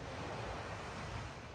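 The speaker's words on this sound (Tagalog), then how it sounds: "Hearing the sound of the waves, the water." Ocean waves at night on a beach in Cancun, Mexico, a faint, steady wash of surf with a low rumble and some wind noise, continuous and undisturbed by talk.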